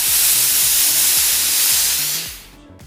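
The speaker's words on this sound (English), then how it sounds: "The key essential feature in all Laurastar products is the dry microfine steam." A Laurastar Smart U iron releases dry microfine steam in a loud, steady airy hiss that holds for a couple of seconds before cutting off abruptly, with no talking.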